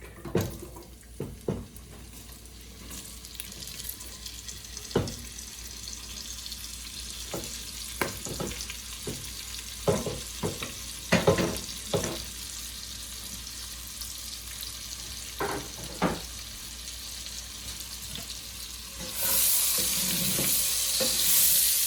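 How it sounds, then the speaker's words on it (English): Onion and garlic fry in rendered sausage fat in a pot, a steady close sizzle broken by repeated stirring scrapes and clacks, with running tap water rushing in near the end. "Now that we've got our sausage out and all the oil, we're gonna throw in our onion and garlic."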